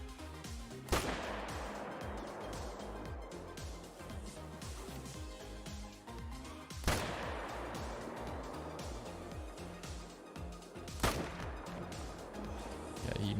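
Three sharp gunshots from a hunting video game ring out several seconds apart, each a loud broadband crack over a steady busy game background of rumble and ambience.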